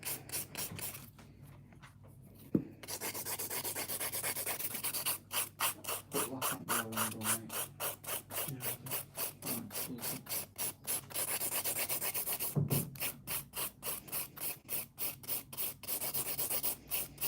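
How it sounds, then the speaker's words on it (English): A nail file rasps rapidly back and forth over acrylic nail display tips, close rhythmic scratching strokes in quick bursts separated by short pauses. "I hate filing display tips."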